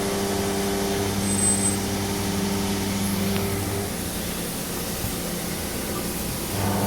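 A WIA VX380TD CNC vertical machining centre makes a rapid move with a steady mechanical hum, joined by a slight rough noise from a worn X-axis ball-screw thrust bearing.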